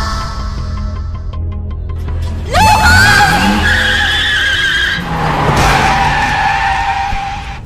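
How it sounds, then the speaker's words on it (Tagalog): In a film road accident, a car skids with a loud, piercing tire screech that swoops and wavers over a heavy engine rumble, then a second sustained squeal, close and dominant throughout. "Nabundol po siya ng sasakyan."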